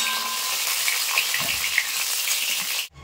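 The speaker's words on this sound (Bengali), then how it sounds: "শুধু এমনি ভেজে নেবো, হালকা করে, লাল লাল করে ভাজবো না, কিন্তু একটু হালকা করে ভেজে নেবো।" Pointed gourds (potol) for dorma lightly frying in hot oil, a dense, even hiss of sizzling close by that runs unbroken before cutting off abruptly at the end.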